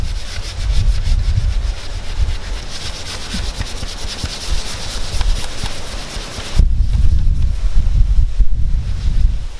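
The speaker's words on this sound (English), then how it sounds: "We're gonna start rubbing this in circular motions" A microfiber cloth rubs hard water deposit remover onto a surface in circular motions, making loud, close, continuous scrubbing and swishing friction that shifts to a heavier, lower rubbing near the end, with no talking.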